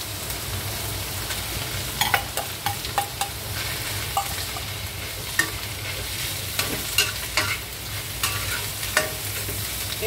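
Shiitake mushrooms stir-fry in a hot pan with a steady, close sizzle, while a utensil scrapes and clicks against the pan in irregular strokes for a Chinese dish.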